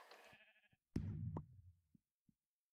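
In a Minecraft Mineplex sheep-herding minigame, a sheep lets out a few quiet, short blocky bleats, with small clicks from game actions in between.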